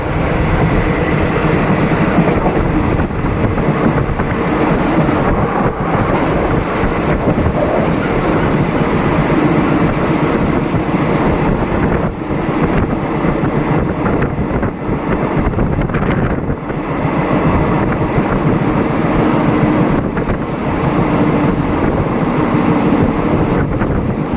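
An ordinary Thai passenger train, number 261, running from Ban Pong to Ratchaburi: continuous loud rumble and wind rush from inside the moving carriage, with faint rhythmic clatter of wheels on track throughout.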